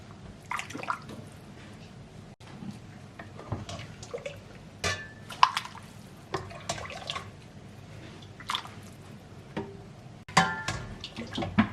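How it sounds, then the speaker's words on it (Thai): Soup being ladled from a pot at a Thai chicken-rice and fried-chicken shop, with close liquid splashes, drips and clinks of the ladle coming in irregular bursts over a kitchen background. "เดี๋ยวตักน้ำซุป"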